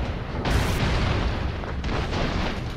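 Bomb blasts in the side-scrolling action video game Broforce, two heavy booming explosions about a second apart over constant rumbling game noise.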